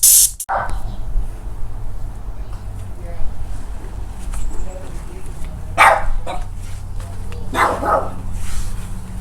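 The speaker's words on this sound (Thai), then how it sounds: "หนูเห่าทำไม" A dog barks a few times at a distance, scattered sharp yips over a low background hum, with brief faint sounds in between.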